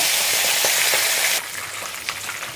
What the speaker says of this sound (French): Nous allons encore retourner notre poisson. Voilà, il est bien doré de chaque côté.